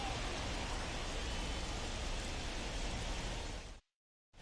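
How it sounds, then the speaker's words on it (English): Steady rain pours down during a delayed baseball game between the Rockies and the Cubs, a dense, even hiss of drops on surfaces that holds constant and then cuts abruptly to silence near the end. "The rain is here, and it doesn't look like it's going away anytime soon."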